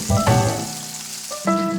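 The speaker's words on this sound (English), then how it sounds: "Into the same pan, I'm gonna add another couple of tablespoons of our melted butter." Melted butter hits a hot pan and sizzles loudly, with two sharp bursts of crackling about a second apart, the frying hiss fading between them.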